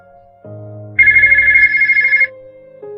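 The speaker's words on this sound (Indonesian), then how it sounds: "Ponsel Azel berbunyi menandakan ada telepon masuk." A mobile phone rings with a loud, bright electronic melody that swells partway through, clear and close with no talking.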